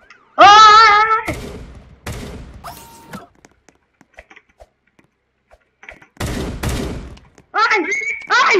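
Gunfire in Roblox Brookhaven comes as several loud, sharp bursts separated by quiet gaps. Excited voices cry out over and between the shots.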